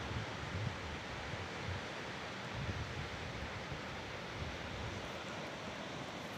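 A constant roar of large sea waves where a river meets the sea, broad and unbroken, with low rumbling surges underneath.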